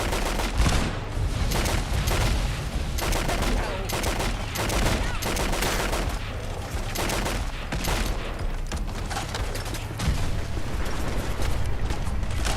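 Gunfire in the video game Fallout London, dense and continuous, with rapid bursts of shots and blasts that fill the whole stretch at a loud, constant level, with a voice now and then beneath it.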